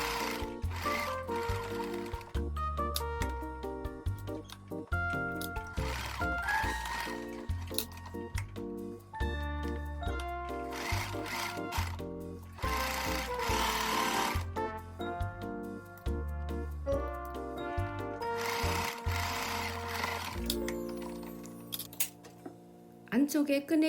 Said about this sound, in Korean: 끈을 재봉을 할 때 가장자리에 스티치를 한번 해줍니다